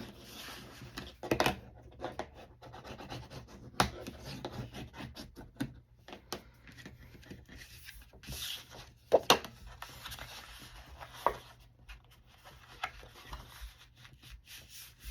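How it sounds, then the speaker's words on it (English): Heavy 110-pound cardstock is flexed and folded by hand, making scattered soft rubbing, crinkling and creasing sounds at close range, quiet and intermittent with no talk. "I'm just flexing it because, like I said, it's 110-pound cardstock"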